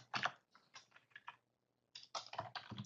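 Quick keystrokes on a computer keyboard as a setup command is typed: a burst of close, crisp clicks, a short pause, then a second flurry of rapid taps.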